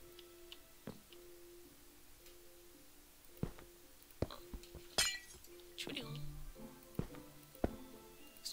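Glass blocks break in Minecraft with several sharp clinks and shattering bursts spread irregularly, moderately loud, while a person talks in the background.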